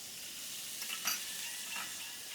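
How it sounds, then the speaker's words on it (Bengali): Spices, garlic paste and cumin paste hitting a pan of browned onions, giving a faint, steady sizzle with a soft clink of a spoon stirring. "পেঁয়াজটা কালার হয়ে আছে, এবার রসুন বাটা এবং জিরা বাটা দিয়ে দেব।"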